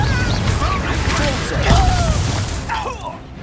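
Magic spell blasts, including a Confringo explosion, go off in combat in the Hogwarts Legacy video game on PS5. Booming, crackling bursts come one after another over busy game noise, with shouted spell voices mixed in.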